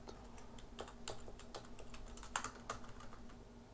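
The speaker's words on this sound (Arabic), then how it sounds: "فأنت هتكتب مثلا هنكتب أي حاجة، هنكتب مثلا كيرلس ثروت" Fingers type on a computer keyboard while filling in a page name during social media account setup, producing a quiet run of irregular key clicks with a few sharper taps, under a faint steady hum and with no talking.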